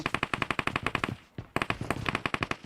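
Automatic gunfire from the mobile battle-royale game PUBG Mobile, made up of two rapid sustained bursts of evenly spaced shots with a short pause between them. The shots are loud and close.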